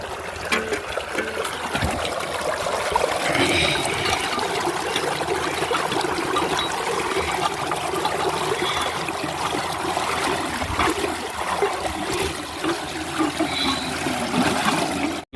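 Steady rush of irrigation water flowing into a maize field pours continuously at close range, a gushing, trickling stream with no talking.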